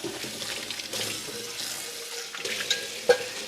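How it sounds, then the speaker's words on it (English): Water runs from a kitchen tap as a knife is rinsed under it, a close, steady hiss with light clinks and splashes as the blade moves through the stream. "I hope you can still hear me over here over this running water."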